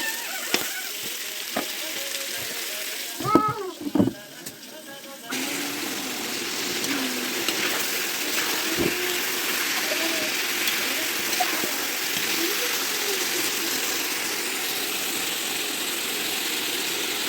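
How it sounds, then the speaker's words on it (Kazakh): Meat for kuyrdak fries in a pan over an outdoor hearth with a steady close sizzle and crackle, a few clanks of a utensil and a brief voice early on, while a faint engine-like hum runs underneath. "Жақсылап қызартып қуырамыз."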